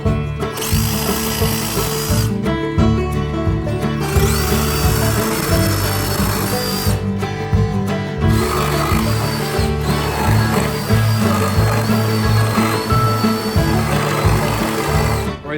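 A reciprocating saw rips through old pallet wood, loud and nearly continuous for fifteen seconds, with a steady buzzing drone and short breaks where the blade pauses.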